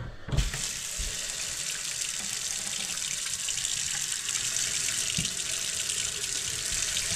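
Water gushes steadily from an RV trailer faucet into a sink, a continuous hissing flow after a brief knock as it's turned on.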